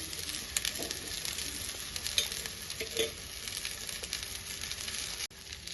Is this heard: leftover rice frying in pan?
yes